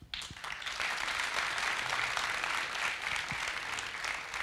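Audience applause welcoming a singer onto a stage at a live entertainment show, a steady dense wash of clapping sustained throughout without pause.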